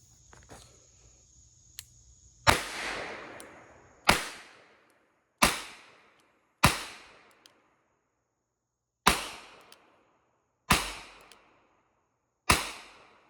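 A Nagant M1895 revolver fires non-proprietary rounds: seven sharp, loud, close shots at uneven intervals, each with a short ringing decay, and no voices.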